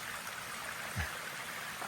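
Water cascades down rocks beside a mountain trail in the White Mountains near Galehead, a steady rushing stream heard at moderate distance, with a soft thump near the middle and no talking.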